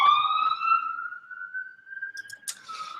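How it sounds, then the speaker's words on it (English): A siren wails steadily, its pitch sliding slowly as it passes at moderate distance, followed by a few faint clatters near the end. "there's a siren going by"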